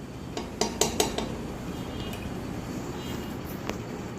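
A kadai pan is set on a stove and handled before sunflower oil and ghee go in: a few sharp metallic clanks close by over a steady hiss of background noise, then a faint knock, no voices.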